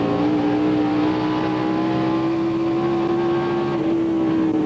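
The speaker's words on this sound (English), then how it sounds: "Here comes Michael Waltrip in the 15 car and Jeremy Mayfield in the 19" NASCAR stock cars at the 2004 Subway 400 come onto pit road, a loud, steady engine drone with a sustained pitch that dips slightly as the cars pass, and no talk.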